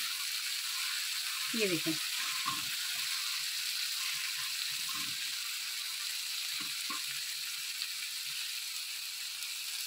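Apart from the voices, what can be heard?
chicken sizzling and being chopped on a hot tawa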